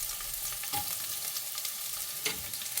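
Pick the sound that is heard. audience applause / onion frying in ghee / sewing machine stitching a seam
onion frying in ghee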